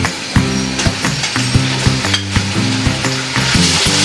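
Sliced onion fries in a pan with ginger and garlic paste for Dhaka-style beef tehari, a loud, constant sizzle broken by regular clanks of a spoon stirring against the metal.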